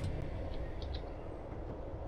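A Class 158 diesel multiple unit in Train Sim 2019 pulls away from a platform, a steady low rumble with faint higher squeals, continuous and close throughout.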